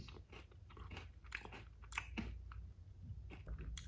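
Nestle Choco Crossies salted caramel being bitten and chewed up close, a series of quiet crisp crunches in irregular bursts with no talk.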